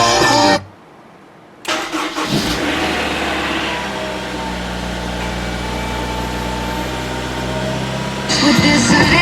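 Honda S2000 engine cranking after a brief silence, catching with a burst and settling into a steady, loud idle with a low rumbling hum, then revving up near the end.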